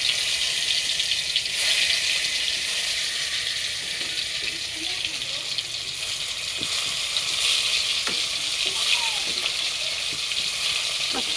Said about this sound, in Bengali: এখন আমি কাঁকরোল ভাজা করছি।